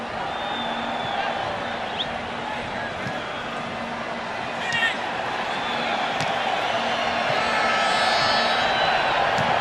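Large stadium crowd at the LA Coliseum urging Real Madrid forward during a soccer match against the Los Angeles Galaxy, a continuous roar that swells slightly toward the end, with a few distant whistles.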